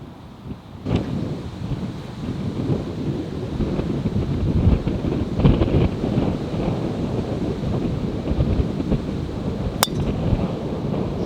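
Steady, loud wind gusts buffet the microphone on an open golf course, a continuous rumbling roar with a sharp tick near the end and no voices.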